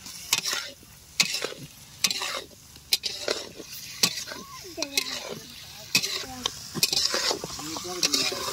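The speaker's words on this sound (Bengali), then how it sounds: "এবার আমরা মাংসটা দেব।" Chicken goes into a pan of fried spice mix with chopped tomato, and a spatula scrapes and knocks against the pan in a regular rhythm of sharp clanks over a continuous close sizzle.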